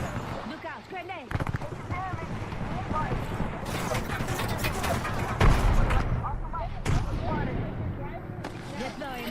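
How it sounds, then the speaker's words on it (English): Gunfire and explosions in an online shooter video game, sustained bursts of shots and booms under frequent talk from players over voice chat. "Listen up, I'm getting shot at."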